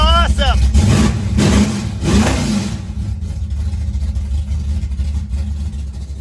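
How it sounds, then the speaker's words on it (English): A 1973 Dodge engine with open exhaust cutouts revs up in two or three loud surges, then settles into a steady, throaty idle, all close by. "we got the exhaust cutouts wired,"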